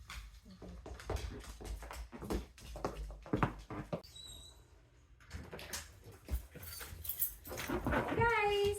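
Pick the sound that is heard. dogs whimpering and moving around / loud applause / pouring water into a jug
dogs whimpering and moving around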